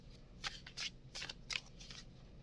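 Tarot cards being shuffled close by, with several soft riffling bursts and papery flutters in an uneven rhythm, fairly quiet and with no talk.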